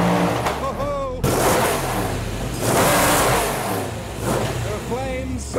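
Shelby Daytona Coupe race car engine revving hard and close, a loud, sustained roar with rising pitch sweeps, car park at Le Mans.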